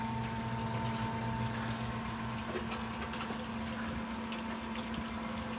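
A pump circulates vinegar through an electric tankless water heater and its two tanks during descaling, giving a steady, loud mechanical hum with a constant tone that holds throughout, with no talk.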